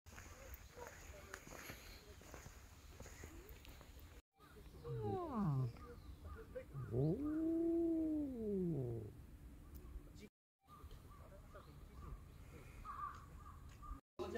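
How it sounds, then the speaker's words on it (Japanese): A small kitten on Tashirojima cat island gives a few rising-and-falling meows in the middle, fairly close, amid outdoor background noise, with people talking quietly nearby. "まだこの猫ちっちゃいからね"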